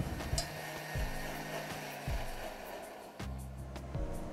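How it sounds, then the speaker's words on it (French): Blender puréeing pumpkin velouté soup in a kitchen, a steady whirring motor drone whose pitch shifts and briefly cuts out several times, close and fairly loud. "Le velouté de potimarron est prêt à mixer."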